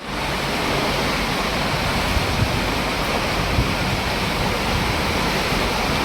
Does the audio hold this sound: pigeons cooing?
no